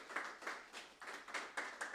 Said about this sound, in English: can you guys give them the big round of applause?